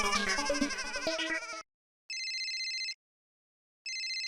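A telephone ringtone sounds in two identical electronic bursts separated by silence, right after a short stretch of music cuts off.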